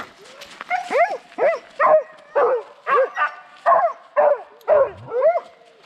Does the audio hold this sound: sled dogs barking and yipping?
yes